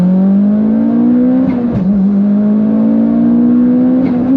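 A Mitsubishi Evo X, flex-tuned on E85, makes a loud, close race pull whose engine note climbs steadily, dips briefly at a gear change, then keeps rising.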